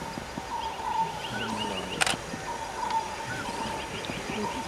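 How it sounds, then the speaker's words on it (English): Birds call in the Kanha jungle, with repeated faint calls scattered over a soft outdoor background and one sharp, brief sound standing out midway. "It's a different feeling to hear the chirping of birds."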